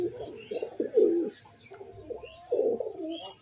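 Pigeons in a loft cage coo in bursts, deep rolling calls close by with short pauses between phrases, under a faint background hum.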